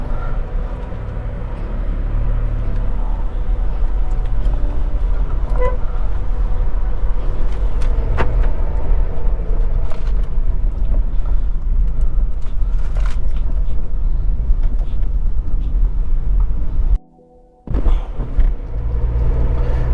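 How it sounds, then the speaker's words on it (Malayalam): A Volkswagen Polo 1.2L MPI three-cylinder car pulls away, its low engine and road rumble steady and close throughout, with a brief dropout near the end. "ഹാൻഡ് ബ്രേക്ക് റിലീസ് ചെയ്ത് നമുക്ക് വണ്ടി എടുക്കാം"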